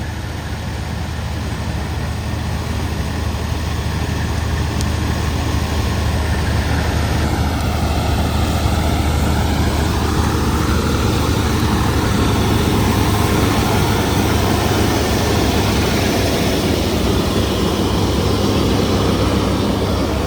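A tractor engine idling at about 1400 rpm, a loud, steady low rumble that runs unbroken throughout, with a faint pitch shift partway through and no talking.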